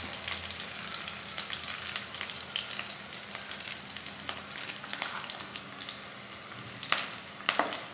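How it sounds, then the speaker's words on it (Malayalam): Chopped green chilies and a handful of curry leaves fry in hot oil for lemon pickle, giving a steady crackling sizzle throughout, with a few sharper pops and spatters near the end and no voices. "ഇത് രണ്ടും കൂടെ നന്നായിട്ടൊന്ന് നമ്മുടെ പച്ചമുളകും കറിവേപ്പിലയും ഒന്ന് മൂത്തപ്പോഴത്തേക്ക്"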